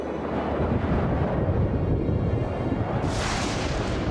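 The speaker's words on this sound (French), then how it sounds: "Le vent se lève." Cartoon wind picking up before a storm in a French animated horse series, a continuous loud roaring gust that thickens and brightens with a sharp hissing surge near the end.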